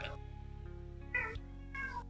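A person's voice imitates a cat meowing, a few drawn-out mews in a row, fairly close and clear over a low steady hum.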